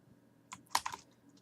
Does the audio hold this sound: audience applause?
no